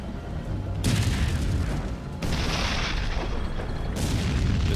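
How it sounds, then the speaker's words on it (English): Heavy artillery and gunfire roar through a WWII tank battle at Arracourt involving American M18 tank destroyers and German tanks, loud, continuous rumbling blasts with fresh booming surges breaking in every second or two. "The sound of gunfire alerts a platoon of American M18 tank destroyers."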